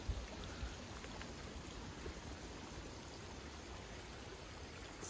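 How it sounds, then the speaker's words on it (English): Small seasonal stream at a water source near the Appalachian Trail halfway point, flowing in a steady, soft, continuous wash with no voices. "it's a seasonal water source on Far Out, but it's still flowing decent today"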